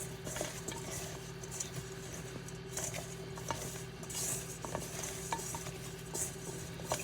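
Potato steak fries being tossed and coated in a bowl while cooking dinner, giving a steady run of soft clinks, scrapes and rattles against the bowl, with no talk.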